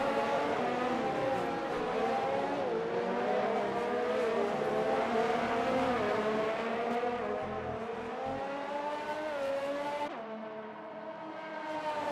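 Race cars in the F1 2019 video game scream around the British track with a continuous high-revving engine whine that shifts in pitch as gears change, loud and sustained before easing off near the end.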